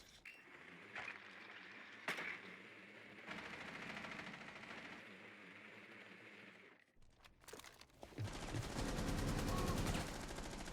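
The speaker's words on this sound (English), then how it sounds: "we're seeing gunfire going on underneath us" Bursts of rapid gunfire and sharp cracks in the video game Rainbow Six during a college esports match, mostly at moderate distance, with a louder roaring stretch of shooting near the end.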